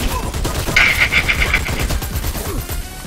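Gunfire from a teammate in the video game Dirty Bomb: a dense run of rapid shots crackling loud and close for about three seconds, with a sustained bright tone through the middle.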